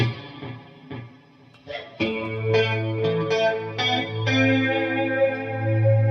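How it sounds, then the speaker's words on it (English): Clean 1980s-style electric guitar tone run through AmpliTube 5 with delay and a touch of reverb, chords ringing out and repeating in soft echoes, sustained and full, no voices. "So let's add the delay because it's the 80s, they used a lot of delay."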